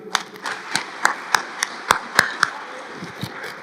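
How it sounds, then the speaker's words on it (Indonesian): A few people clap sparsely at a talk event in Indonesia, distinct separate claps spaced irregularly over a quiet room background. "Sekali lagi, tepuk tangan untuk Rocky Gerung."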